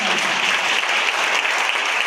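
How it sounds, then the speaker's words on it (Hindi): An audience claps loudly and steadily at a motivational talk, a dense continuous wash of applause from start to end with no voices breaking through. "एक बार मेरे सभी अप्लायंस के लिए तालियां बजा लीजिए"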